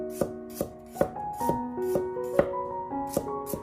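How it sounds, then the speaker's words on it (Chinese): A knife chops garlic cloves into thin slices or small bits on a board, giving crisp, evenly spaced close chops about twice a second, with faint tonal background music. "准备多一些大蒜子，切成薄片，或者是切成蒜粒都可以"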